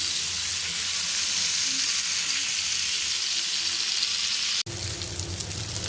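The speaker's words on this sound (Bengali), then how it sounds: "মাছ হচ্ছে ভাজা শেষ, এখন হচ্ছে উঠিয়ে নিব।" Poa fish sizzle steadily in hot oil as a loud, close, continuous hiss, broken briefly by a sharp dropout near the end before the frying resumes.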